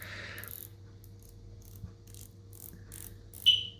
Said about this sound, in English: bezel is a bi-directional bezel